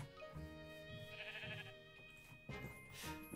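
Sheep bleat in the Minecraft video game, several wavering bleats in short bursts over steady background game music, moderately loud and close.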